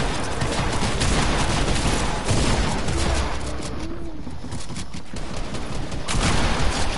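Shotgun fire in a PS4 shooting game, set inside a dense, continuous barrage of gunfire that stays loud for the whole stretch with no pauses.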